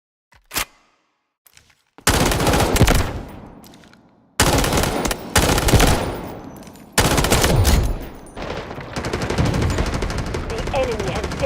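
SG552 rifle fired at a firing range in Delta Force, a single early shot followed by loud sustained automatic bursts with brief pauses, close and sharp, ending in a rapid stream of fire.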